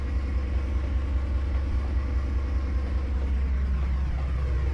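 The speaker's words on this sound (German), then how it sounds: "So, nach lange mal wieder einen amerikanischen Güterzug fahren." An American freight train runs in the Trainz 22 simulator on the Yellowstone Mountain & Central Railroad, giving a steady, loud low rumble of locomotive engine and rolling wagons that holds level throughout with no talk.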